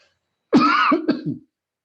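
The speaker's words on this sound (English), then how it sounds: "I'm going to cough for a second." A single harsh cough-like burst, close and fairly loud, breaking into a couple of shorter rough follow-up bursts before silence.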